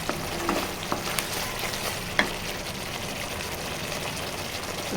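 Spatula stirring masala curry in a pan after salt and turmeric go in, a soft continuous scrape and low sizzle with a few sharper clinks against the pan, close and steady without talk.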